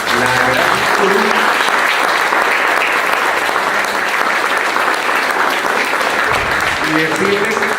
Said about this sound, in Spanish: quiero de verdad un fuerte aplauso